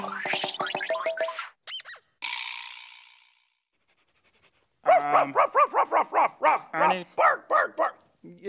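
A human voice imitates a dog with a series of short, rhythmic barking sounds, preceded by other vocal noises and a brief pause.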